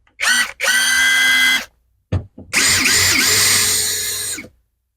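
An EMTOP cordless drill whirs in short bursts: two quick pulls, a pause with small clicks, then a longer high-pitched run that winds down.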